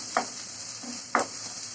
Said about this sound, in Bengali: এই যে পেঁয়াজটা আমি ভালোভাবে ভেজে নিচ্ছি